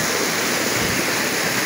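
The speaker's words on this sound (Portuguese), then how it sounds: "tem uma cachoeira." Steady broadband rush of a waterfall close by in the Serra do Mar near Cubatão, Brazil, a dense continuous roar of falling water heard alone and without variation.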